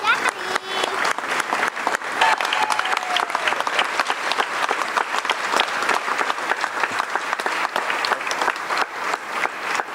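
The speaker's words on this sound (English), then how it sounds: "Y'all give them a round of applause" Sustained applause from an audience honoring elected officials at a Florida gathering in Panama City, loud and steady clapping throughout with some crowd noise mixed in.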